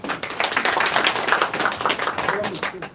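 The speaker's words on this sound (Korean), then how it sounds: "박수로 좀 보시죠." Audience members at a Lions Clubs International district leadership academy seminar clap to welcome a guest lecturer, a dense patter of many hands filling about three seconds, with talk mixed in.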